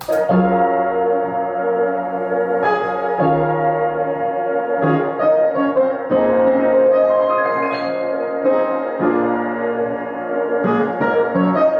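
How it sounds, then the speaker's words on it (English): Rhodes electric piano plays three repeating chords beneath a louder piano and another processed layer, the chords shifting every couple of seconds in a continuous, full mix without talk. "The next part that I added in was the Rhodes"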